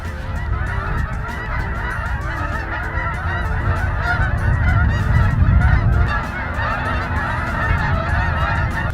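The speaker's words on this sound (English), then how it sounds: "here comes the geese. Look at this." A large flock of geese over a farm honking loudly and continuously, many overlapping calls forming a dense, clamorous chorus close by.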